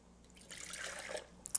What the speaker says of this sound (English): So first, I'm going to add my water.